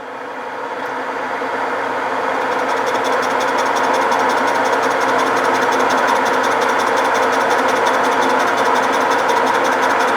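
A metal lathe takes a cut about 60 thousandths deep while machining a pulley for repair, a steady loud mechanical whir with a faint rapid ticking from the spinning work, continuous and close, with no talking.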